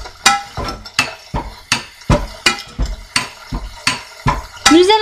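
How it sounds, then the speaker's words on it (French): Pots, pans and dishes are struck in a loose rhythm, about a dozen sharp clanks and bangs close by, ending with a ringing metallic clatter, played as homemade music with no talk. "Nous allons créer de la nouvelle musique à la mode avec nos plats"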